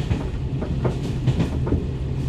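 Train carriage rolling on rails in Greece or Bulgaria, with a steady low rumble and repeated rhythmic clacks as the wheels cross rail joints.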